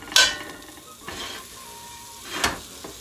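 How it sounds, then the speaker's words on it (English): Bacon renders in a hot pan with a soft, steady sizzle, punctuated by a few brief clinks and scrapes of utensils against the pan. "I'm going to take my bacon and I'm going to put it down in here, and I'm going to let this render out"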